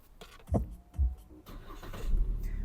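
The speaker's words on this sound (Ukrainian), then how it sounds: "Давайте заведемо автівочку, я вам покажу, як вона працює." A 2019 Chery Tiggo 2 car engine starting, with a couple of short cranking thumps followed by the engine catching and settling into a low idle, heard close by.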